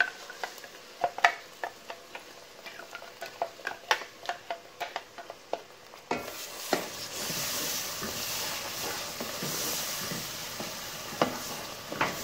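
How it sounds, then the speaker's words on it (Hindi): Masala gravy for matar paneer poured into a hot pan, sizzling and frying steadily while a spoon stirs it with sharp scraping clicks, the sizzle swelling louder and more continuous after the wet gravy goes in. "अब इसमें ये जो ग्रेवी मैंने बनाई है वो डाल देंगे।"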